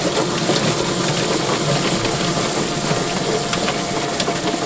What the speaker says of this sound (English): And we're gonna turn our plucker on.